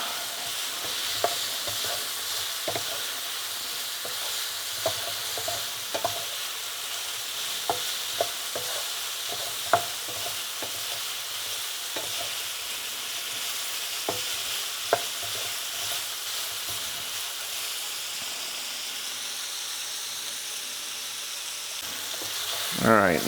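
Sausage browns in a pan over medium-high heat with a steady sizzle of frying throughout, broken by scattered clicks and scrapes of stirring, close and moderately loud, with no talking.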